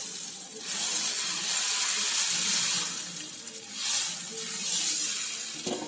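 Onion dosa batter hisses on a hot pan, a steady broad sizzle that swells and fades in waves, close and fairly soft, with no talking.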